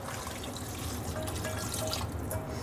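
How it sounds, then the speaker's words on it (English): Water poured from a container into a pot of carrot-beet soup with ginger, herbs and spices, a soft continuous splashing trickle, close and fairly quiet, no talking. "here I have some water, and I'm going to add it now"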